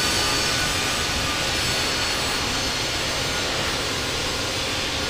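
A jet airliner taxiing in the Infinite Flight simulator game, a steady broadband engine roar and whine that stays loud and unchanging throughout, with no talking.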